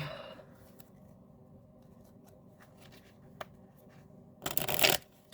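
An angel card deck is shuffled close by: a faint riffle at the start and a light tap, then after a quiet stretch a short, loud burst of cards riffling together near the end.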